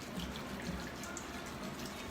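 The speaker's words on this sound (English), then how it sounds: "Take the spring water, and then we're going to go ahead and pour that into here." Spring water poured into a cooking pot in a home kitchen, a steady soft splashing stream with light watery gurgle running throughout, fairly quiet and with no talking.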